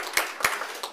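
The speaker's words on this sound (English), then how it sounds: "I think a round of applause would be." An audience at a chamber of commerce election meeting claps, giving a short burst of scattered, fairly close claps across one second.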